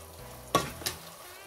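Onion and tomatoes being stirred together in a pot for a broccoli stew, two quick scraping strokes close by over a quiet background, with no one talking.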